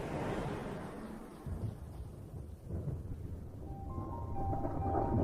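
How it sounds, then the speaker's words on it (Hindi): Low thunder rumbles on and off over a grassland as monsoon clouds gather, a steady distant roll that swells and fades across several seconds, with no voices. "आसमान बादलों से घिरने लगा है और बिजली भी गरजने लगी है।"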